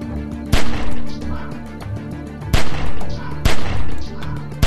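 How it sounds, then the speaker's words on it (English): Gunfire from The Walking Dead: 400 Days, with loud, sharp shots at about 0.5, 2.5 and 3.6 seconds over a dense, busy game soundscape. "shoot at the window and keep that fucker's head down till I get where I'm going"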